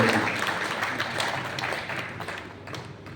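An audience at a Hindi poetry gathering in Siwan claps together in a dense, steady burst of applause that fades slightly toward the end.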